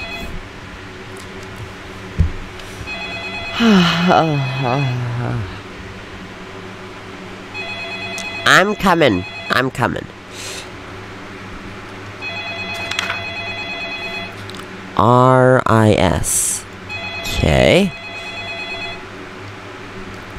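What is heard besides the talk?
telephone ringing in video game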